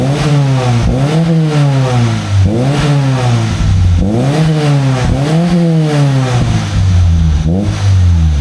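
A Toyota Corolla AE92 small-body 4AF engine fitted with 421 headers and exhaust revs repeatedly. Loud, close blips rise and fall in a steady rhythm of about six throttle pulls with no talk over them.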